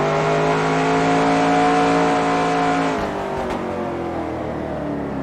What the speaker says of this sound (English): Alright, we're gonna do the burnouts down here actually.